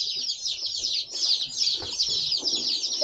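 Hatchery ducklings and turkey poults peeping in a box, a constant chorus of shrill, overlapping high-pitched peeps close by, with faint rustling underneath.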